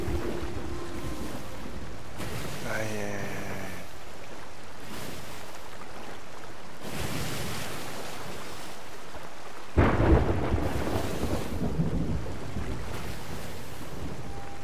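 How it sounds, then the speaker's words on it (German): Thunderstorm at sea in the pirate game Sea of Thieves, with steady heavy rain and wind over churning waves, broken by rolling thunder and a loud crack of thunder partway through, a sailing ship exposed near rocky waters. "das Problem ist halt beim Gewitter, dass wirklich das Schiff sinken kann"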